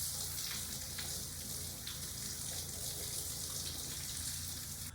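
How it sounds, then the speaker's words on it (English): Warm tap water runs steadily from a faucet while baby bella mushrooms are rinsed and scrubbed in a kitchen sink, a continuous close hiss with faint low clatter underneath. "wash it thoroughly under warm water"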